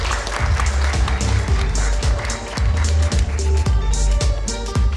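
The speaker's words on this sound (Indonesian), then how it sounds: "Tepuk tangannya dong." Audience applause welcoming comedians onto a panel stage, continuous clapping with a loud low rumble and thumps running underneath throughout.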